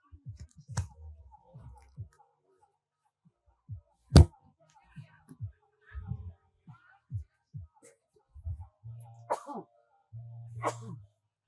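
A single sharp sneeze bursts out amid scattered low thumps and brief noises at a freeride ski competition, with quiet gaps in between.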